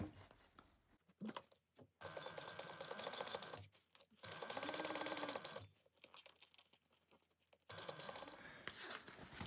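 A sewing machine bastes a zipper seam in several loud, close runs of rapid stitching, separated by short pauses.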